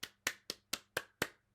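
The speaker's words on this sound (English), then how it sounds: "little golf clap." Six light, evenly spaced hand claps, crisp and close, with short gaps between them and no talking.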